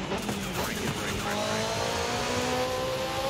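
A McLaren 620R with a V8 engine in the racing game Forza Horizon 5 revs and accelerates with rising tonal whine and brief tire squeal, loud and continuous.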